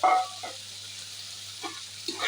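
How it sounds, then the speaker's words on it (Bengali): Chopped tomatoes stirred into sizzling spices in oil for a Bangladeshi hilsa fish bhuna, with a soft steady fry and a few brief scraping stirs near the start, middle and end. "মশলার সাথে টমেটোকে নেড়ে চেড়ে"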